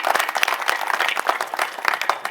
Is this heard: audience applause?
yes